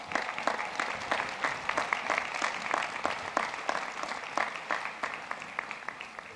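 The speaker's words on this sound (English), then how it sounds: "Let's give our speaker another round of applause." Steady applause from a commencement audience at a graduation ceremony, a dense sustained patter of many hands clapping at moderate distance with no voices on top.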